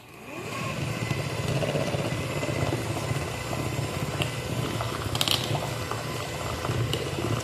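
An electric mixer runs continuously, beating strawberry cake batter with pineapple and small chips in a bowl. The motor whirs with a low, steady drone and a faint rattle of the beaters throughout.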